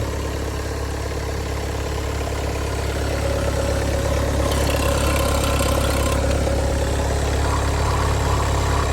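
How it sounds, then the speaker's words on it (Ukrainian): A cold Volkswagen Passat B8 2.0 TDI diesel engine with DSG gearbox idles steadily close by, a low even rumble with a faint rattling texture and no revving. "Двигун працює гарно, рівненько, не трясе"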